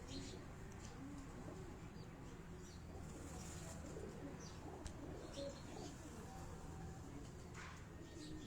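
Breeder pigeons coo softly in a loft, low faint throaty calls repeating beneath steady background noise, with a voice present in the surroundings.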